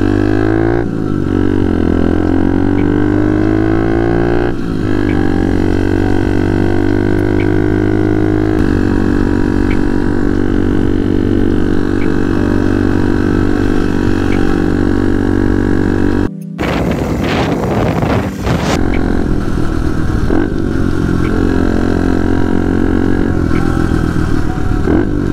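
A pit bike motorcycle engine runs steadily while being ridden, loud and close, with rising and falling revs, a brief cut out and a quick burst of revving partway through.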